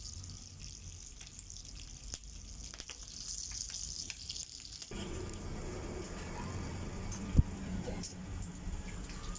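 Pork belly (lyempo) fries in oil with a soft, constant sizzle and crackle that grows louder and denser about halfway through, broken by one sharp pop.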